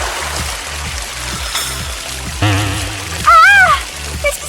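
Soda gushes and splatters without a break from a booby-trapped bottle in a prank between siblings, a steady wet hiss near at hand, while a voice cries out twice partway through.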